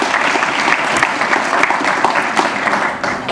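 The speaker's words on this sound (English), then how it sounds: "So a round of applause for them." Steady, dense audience applause at a hospital volunteer recognition evening, many hands clapping together at a constant, fairly loud level throughout.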